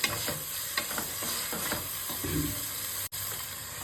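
Green chillies are stirred in a pot for a chicken biryani, giving a soft continuous sizzle with irregular scraping strokes of a spoon, close by and fairly quiet, with no talking.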